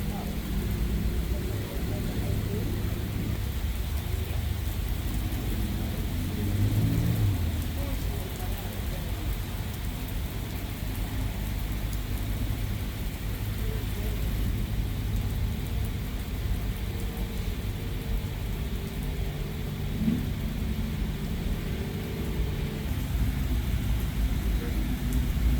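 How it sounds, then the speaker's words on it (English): Steady rain pours down in a constant, dense hiss at a Pigeon Forge rod run car show in the Smoky Mountains, with faint low rumbles and occasional voices in the background. "It rains. It's raining. It's pouring."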